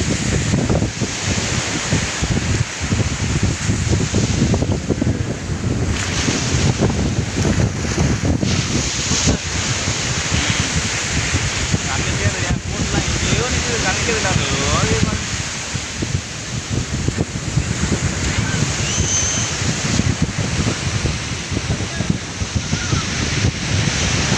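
Sea waves wash loudly and continuously onto the shore at Pulicat near Chennai, mixed with heavy wind buffeting close to the microphone, with voices now and then.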